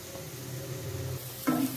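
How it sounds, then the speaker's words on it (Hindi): Spices being roasted in a pan over a low flame for a Malvani crab masala curry, a soft steady sizzle with a quick stirring scrape near the end. "मसालों को लो फ्लेम पे अच्छी तरह भून लें।"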